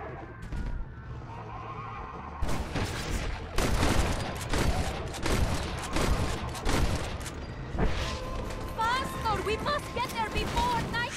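Gunfire rattles through a shootout in the video game Red Dead as dense, overlapping shots and bursts. A horse whinnies and voices shout over the steady din.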